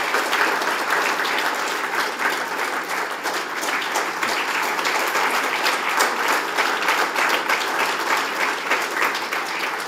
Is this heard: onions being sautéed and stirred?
no